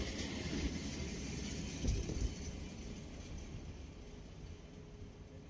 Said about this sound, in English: Here she comes, a classic Swiss RE 420 locomotive, capable of 140 km per hour.